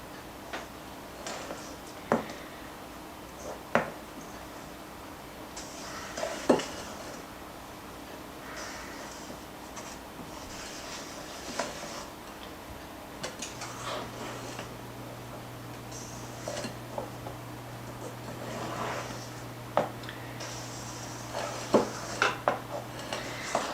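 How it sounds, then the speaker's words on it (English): A spatula folds flour into angel food cake batter in a bowl, with soft swishing scrapes broken by scattered sharp taps and clicks against the bowl over a quiet background. "I'm just making sure I got all that flour whisked in or folded in nicely."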